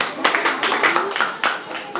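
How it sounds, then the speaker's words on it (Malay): A classroom claps for a student during a Malay-language lesson, a small group giving several uneven bursts of hand claps close by, with faint voices mixed in. "bagi tepukan orang tu"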